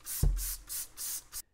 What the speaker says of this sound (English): Let's try this cleaner on it, see what it does. So we can go ahead and soak the radiator